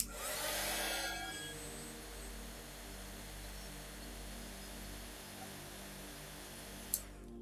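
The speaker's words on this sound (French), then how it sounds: "je prends un pistolet chauffant qui sert à embosser la poudre à embosser" A heat gun used to melt embossing powder for a metallic stamping effect gives a steady, faint blowing hum throughout, slightly louder at the start, with a single short click near the end.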